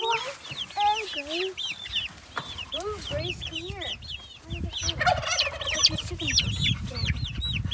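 Backyard egg-laying chickens cluck and squawk in rapid overlapping bursts close by, a busy flock chorus running throughout, with a person speaking briefly among them.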